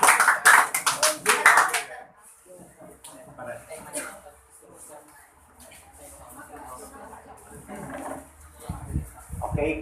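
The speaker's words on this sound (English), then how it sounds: "A round of applause," An audience bursts into loud applause at a debate event, with the clapping fading after about two seconds, followed by quieter room noise and murmuring.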